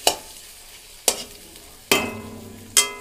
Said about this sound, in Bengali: ডিমগুলো ভেজে নিই